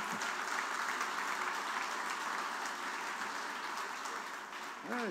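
A room of attendees at a university building dedication gives steady, moderate applause throughout, a continuous wash of clapping with no clear break and a voice beginning at the very end.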